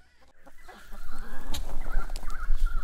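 Chickens on an off-grid rural property, a flock clucking close by in busy overlapping bursts that grow louder after a quiet start.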